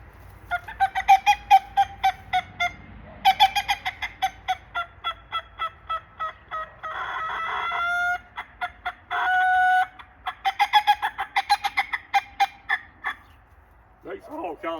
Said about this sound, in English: Makes all kinds of, it's a loud call. It's great to get a turkey to react.